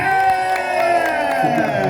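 An audience cheers and applauds for a singer at a Thai country music award presentation, a loud, continuous crowd roar mixed with whoops and held musical tones.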